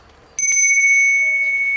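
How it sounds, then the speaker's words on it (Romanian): An old small bell, given as a gift, is struck once and rings out with a clear, sustained metallic tone that slowly fades. "Dai seama ce clopoțel e ăsta"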